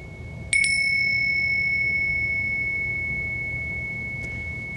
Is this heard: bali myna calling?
no